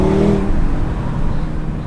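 Audi RS3 facelift engine pulling hard under acceleration, a short burst of loud, close engine drone with a rising tone that fades quickly, no talking over it.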